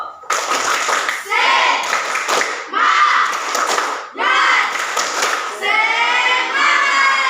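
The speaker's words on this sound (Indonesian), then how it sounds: "berikan aplaus dulu" A group claps hands in several loud bursts of applause, separated by short pauses, with voices calling out over the clapping.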